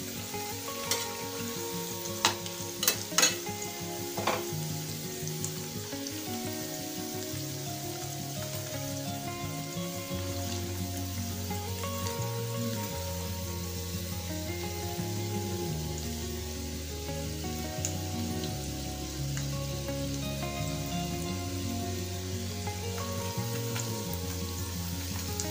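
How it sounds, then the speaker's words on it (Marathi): Sabudana vadas deep-frying in hot oil, a steady close sizzle that runs unbroken throughout with a few sharper pops and spatters near the start, no voices. "थोड्या थोड्या वेळाने हे वडे आपल्याला परतून घ्यायचे आहेत, कारण सर्व बाजूंनी हे वडे तळले गेले पाहिजेत"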